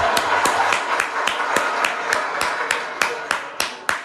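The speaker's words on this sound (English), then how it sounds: "Let's give President Biden a round of applause." Audience applause for President Biden at a California political comedy event, heard as a dense wash of clapping with a few sharp, separate claps standing out at a steady rhythm, fairly close and loud.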